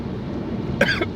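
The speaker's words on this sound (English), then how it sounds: "that made me cough" A couple of sharp coughs close by, the first one stronger and the second a short follow-up, over a low steady background hum.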